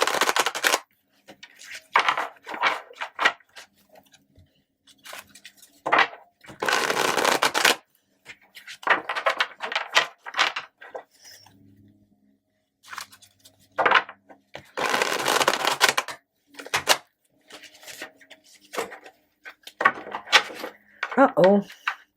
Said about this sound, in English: I'm going to have to shuffle again.